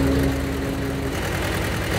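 A 1923 Ford Model T engine running steadily, a close, loud, even low rumble with a faint hum, no talk over it.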